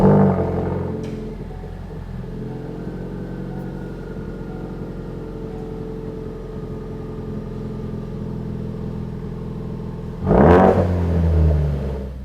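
A 2016-2018 Ford Focus RS with a Ford Performance 3-inch active cat-back exhaust idles with a steady low drone, then a short sharp rev bursts out near the end.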